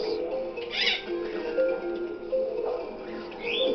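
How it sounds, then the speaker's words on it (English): Pet birds call loudly and repeatedly indoors, with sharp chirps and squawks rising over a steady background hum across the whole stretch. "why do my birds want to get noticed in this video?"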